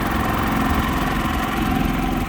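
A portable inverter generator set up for RV boondocking runs at a steady idle, its even mid-pitched engine drone and faint vibration continuous and close, with no talk.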